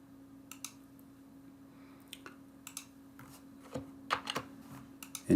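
Sparse clicks of typing on a computer keyboard while filling in a Microsoft Forms flow, scattered keystrokes arriving in short irregular bursts against a steady low hum, close and fairly quiet.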